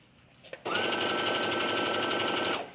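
A domestic sewing machine stitches a seam close to a pin, starting after a couple of small clicks and then running at a steady whirring, rapid-ticking pace for about two seconds before stopping.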